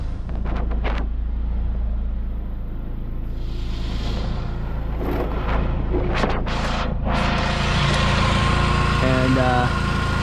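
A high-mileage Saab 9-5 Aero engine idles steadily nearby, a low continuous rumble, while a few brief knocks and clatters sound over it.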